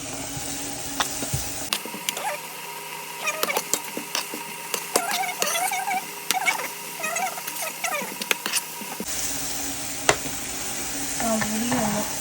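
Sliced onions frying in a pan give off a steady, close hiss, broken by frequent scraping and clicking from stirring throughout.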